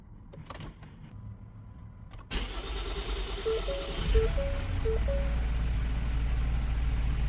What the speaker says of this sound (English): We'll just let it tick over.